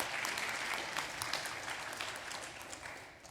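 Steady applause from the audience for a keynote speaker at a family conference, continuous dense clapping heard at a distance and fairly faint, tapering slightly at the end.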